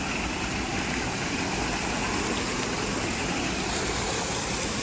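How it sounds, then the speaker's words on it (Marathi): River water flowing at night in the Konkan countryside, a dense unbroken rushing roar that stays loud and even throughout. "तुम्हाला आवाज येत असेल. ही नदी आहे."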